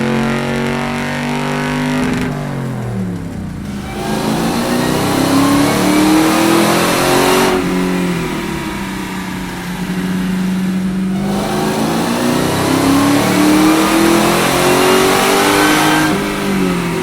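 A car engine revs hard on a DynoJet chassis dyno in a shop garage, loud and sustained, with repeated climbs and drops in pitch as the throttle rises and falls, no talking over it.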